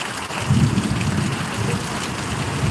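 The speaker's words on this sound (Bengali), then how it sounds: "এই মুহূর্তে দেখতে পাচ্ছেন প্রিয় দেশবাসী বৃষ্টি হচ্ছে" Rain falls steadily outdoors in Chattogram, a constant broadband hiss with a low rumbling undertone that swells slightly around the middle, with no voices.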